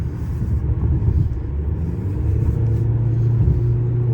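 A 2016 Audi A6 Quattro with a 2.0 diesel engine and semi-automatic gearbox accelerates on the road, heard from inside as a steady low rumble of engine and road noise that builds slightly.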